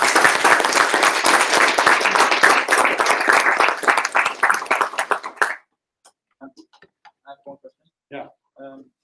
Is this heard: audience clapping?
yes